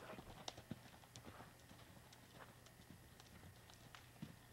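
A ridden horse walks in a backyard arena, hooves clip-clopping faintly in a steady rhythm at a distance, with low background hum.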